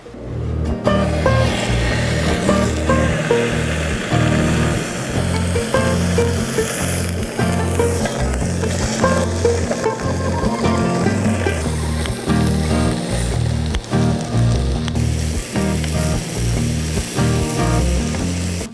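Samgyeopsal pork belly sizzling in a slightly warped pan, a loud, steady crackle and spatter that runs continuously with dense popping and no talking.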